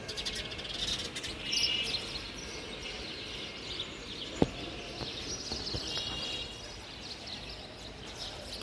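Birds chirp and call on a cloudy early morning at 7:30, small bright twitters scattered above a steady hum of outdoor background noise, with one sharp click near the middle and no voices.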